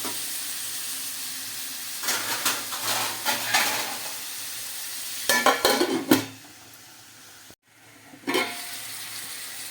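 Tomatoes cook softly in a pan, with a faint sizzle under scattered stirring scrapes and clinks that come in bursts and then pause.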